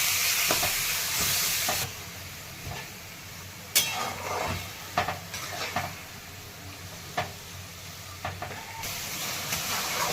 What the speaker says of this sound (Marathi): आणि नंतर यामध्ये तांदूळ देऊन टाकणार आहे गरम पाणी